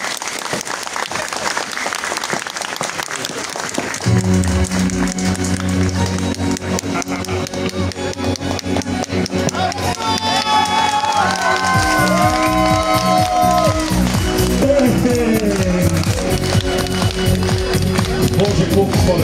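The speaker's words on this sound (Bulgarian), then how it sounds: "Аплодисменти!" A large crowd claps steadily and loudly at a Christmas concert in Veliko Tarnovo. The applause continues throughout as music swells in beneath it and a voice joins over the top.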